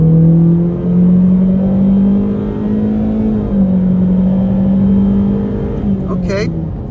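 A 2023 Honda Civic Sport Hatchback accelerates onto a highway, its engine droning steadily with a slowly rising pitch for several seconds before easing off; a voice speaks briefly under the engine noise.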